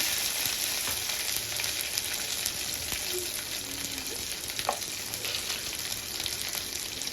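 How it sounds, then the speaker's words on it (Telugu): Peanuts and cumin frying in a pan over a low flame give a steady, even sizzle throughout, with faint crackles and no talking. "సిమ్లో పెట్టుకొని బాగా ఫ్రై చేసుకోవాలి"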